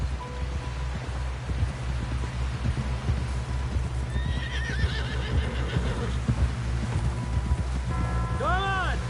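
Horse in the video game Red Dead Redemption II, with hoofbeats clip-clopping under rain and a loud whinny near the end, set against a steady low rumble and background voices.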